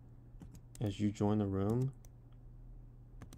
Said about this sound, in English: simple as typing into this box